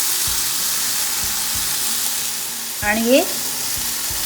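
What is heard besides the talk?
eggplant bharta mixture sautéing in a pan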